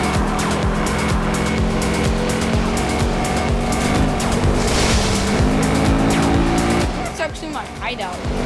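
Tires squeal and skid as a car brakes hard in a Need for Speed racing game, with a loud engine roar throughout, a sharp screech near the end and a voice talking over it.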